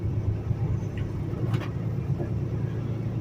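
A 579 semi truck's diesel engine at a truck stop parking lot, a steady low rumble idling close by with faint intermittent background sounds.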